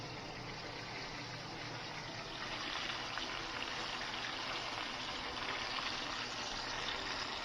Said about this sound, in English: I'm going to fry them until they're golden brown